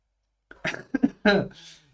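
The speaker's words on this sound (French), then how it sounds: "Vas-y, je tousse carrément." A person coughs a few times in short, sharp bursts, close and fairly quiet, ending with a breathy exhale.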